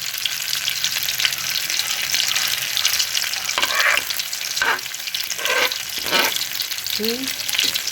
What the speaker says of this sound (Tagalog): So, antayin lang natin siyang maprito, no?